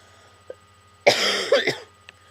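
A single harsh cough bursts out close by, followed by a second rougher one, with a faint click before and after in a quiet room.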